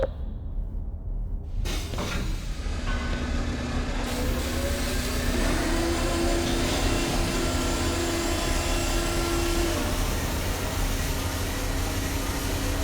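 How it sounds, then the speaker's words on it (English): The anti-mass spectrometer rotors in the game Black Mesa spin up with a loud, steady mechanical whir and hum, and a rising tonal whine sets in after a sudden start and holds for several seconds. "if you would be so good as to climb up and start the rotors"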